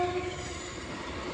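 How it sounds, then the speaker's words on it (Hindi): A Delhi Metro train passes near Pragati Maidan, heard as a faint, fairly distant rolling rumble with a brief tonal horn-like note early on and no talking. "मेट्रो जा रही है"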